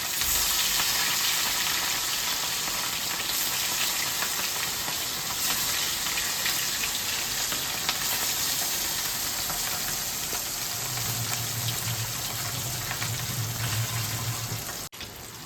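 Catla fish pieces coated in salt and turmeric frying in hot oil, a continuous moderate sizzle and crackle heard close up with no talking.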